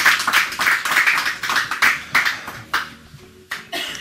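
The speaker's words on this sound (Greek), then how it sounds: "Να δώσουν ένα χειροκρότημα παρακαλώ λίγο το κοινό" A small studio audience on a Greek talk show gives a short round of hand clapping, uneven bursts that thin out and trail off into a few scattered claps.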